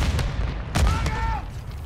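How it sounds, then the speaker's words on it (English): A grenade blast in Call of Duty: Modern Warfare II, with a sharp boom around the middle of the clip, set among scattered gunfire and other in-game combat noise. "Throwing grenade!"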